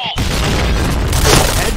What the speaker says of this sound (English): Itu gue bom tuh